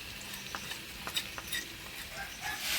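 Squash is stirred and fried in a pan, a faint low sizzle under intermittent spatula scrapes and light clinks against the pan, no voices.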